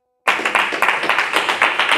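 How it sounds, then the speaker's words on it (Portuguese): A church congregation claps for Jesus during a sermon, a burst of loud, close, rhythmic clapping starting abruptly and continuing in a steady beat. "dá uma salva de palmas para Jesus"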